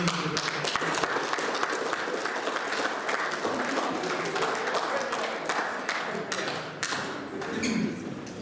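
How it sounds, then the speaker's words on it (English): A round of applause for Andy at a surf club prizegiving in the Tokoroa War Memorial clubrooms, sustained, fairly loud clapping with a few sharper individual claps and faint crowd murmur beneath. "round of applause for Andy"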